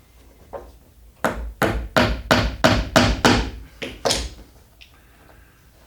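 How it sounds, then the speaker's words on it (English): A hammer drives a nail into a wooden toy with about nine steady, evenly spaced knocks, loud and close, and no talking. "so that's your very first step, is to get that nailed in like this"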